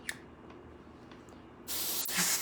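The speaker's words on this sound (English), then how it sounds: "With the airbrush, I can cover the whole thing." An airbrush sprays paint onto a hoodie. After a few faint clicks, a close, steady, breathy hiss starts suddenly and keeps going to the end.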